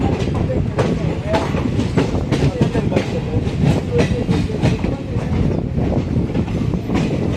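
Basava Express rolling into Mysuru Junction: a loud, close, continuous rumble with steady rhythmic clickety-clack of wheels over rail joints, heard from inside the train.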